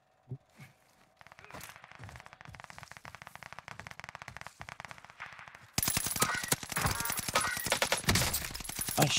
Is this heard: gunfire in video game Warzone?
yes